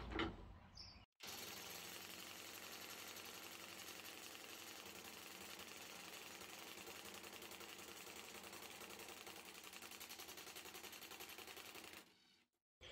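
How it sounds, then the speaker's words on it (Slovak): A Dewalt DCF850 compact impact driver in Precision Drive mode loosens screws, giving a loud, rapid continuous hammering rattle that runs about eleven seconds after a short start and then stops, with no talk. "Vyskúšame skrutky povoliť na režime 1 Precision Drive."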